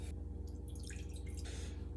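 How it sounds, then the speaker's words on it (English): Water poured from a container into a dish resting on a kitchen scale, measuring 120 grams for a sourdough starter; a steady, close trickling splash runs the whole time over a low hum. "Then I'm gonna put in 120 grams of water."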